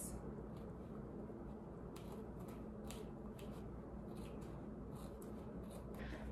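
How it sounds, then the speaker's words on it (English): Scissors trimming excess felt off a felt board, a faint, quiet series of short snipping and rustling cuts spaced irregularly over a low, steady background hum. "take my scissors and go and trim off the"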